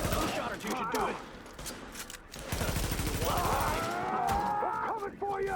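Video game gunfire in a first-person shooter, with bursts of rapid shots that are loud and fairly close, partly under someone talking and with other game sounds and effects.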